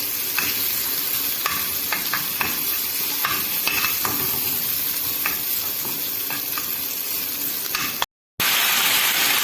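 Green chillies sauté in a hot pan, giving a loud, steady sizzle with repeated scraping stir strokes throughout and a brief dropout near the end; no one speaks.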